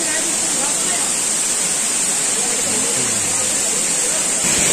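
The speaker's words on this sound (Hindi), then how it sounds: "और ये पानी ऊपर से आता है" Water pouring down from above in a steady, continuous broadband rush at a Shiva temple near Abu Road, Rajasthan, its flow coming from a cow-mouth-like source up the mountain, loud and close throughout.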